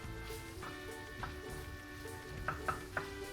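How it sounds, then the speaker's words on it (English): Onions, wieners, chorizo and bacon stir-fry in bacon and salt pork fat in a pot, giving a quiet, steady sizzle broken by a few sharp scraping clinks from the stirring utensil. "now we're stir frying all these things together"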